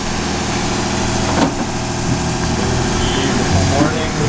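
A sailboat's engine drones steadily as the boat motors along on a calm morning between Chacala and Banderas Bay, with a loud, continuous low rumble and a few faint clunks over it.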